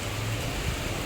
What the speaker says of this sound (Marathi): तुम्ही बघू शकता किती पाऊस आहे. तुफान पाऊस पडतोय.